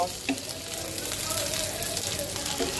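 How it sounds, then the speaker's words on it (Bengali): Potatoes sizzle and crackle steadily in hot oil in a home kitchen pan, a close, continuous frying hiss with faint stirring, no talk over it. "দেখো আমার আলুটা কিন্তু খুব সুন্দর করে আমি ভেজে নিয়েছি"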